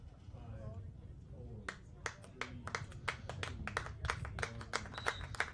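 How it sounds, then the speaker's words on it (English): Spectators clap as a boys' varsity high school soccer match ends. Crowd noise comes first, then scattered distinct claps join in and build into thin, quick applause from a modest crowd. "And as the applause builds, the whistle sounds"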